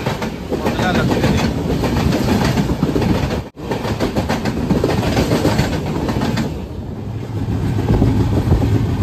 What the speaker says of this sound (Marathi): तर ही आता मंगला एक्सप्रेस क्रॉस होता